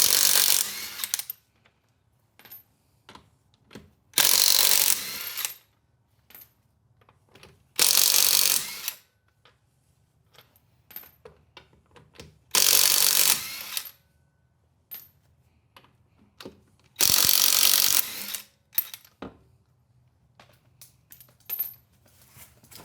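A ratchet working loose the wheel fasteners on a Porsche Cayman to remove the tires, giving several loud bursts of rapid metallic clicking separated by quieter gaps and a low background hum.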